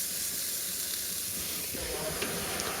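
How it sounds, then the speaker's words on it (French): Small lardons crisping in a hot frying pan in their own fat, a continuous close sizzle with faint spits and a slight shift in tone partway through as they are moved. "ma poêle, elle est bien chaude, là, pour mes petits lardons"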